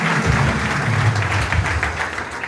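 A church congregation applauding a welcomed visitor, steady loud clapping from many hands filling the room, continuous for a couple of seconds.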